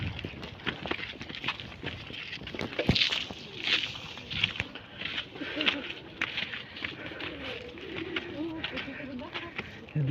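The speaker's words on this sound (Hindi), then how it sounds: "ये देखिए कबूतर" Pigeons coo on a high rocky hill at Jabal Noor near the Cave of Hira, low repeated calls set in a busy outdoor ambience with background noise and murmured voices.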